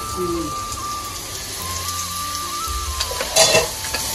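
Chickpeas frying in a pan with butter, a steady sizzle running throughout, stirred now and then, with a louder burst of crackling near the end and faint background tones and voices underneath.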